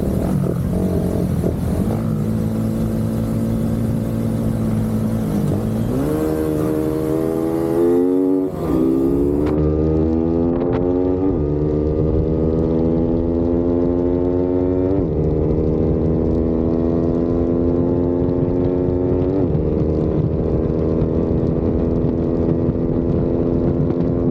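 A stock Suzuki Raider FI motorcycle with rim set and open throttle body is ridden at full throttle, its loud engine whine climbing steeply through repeated gear changes and then holding a strained, flat-out tone.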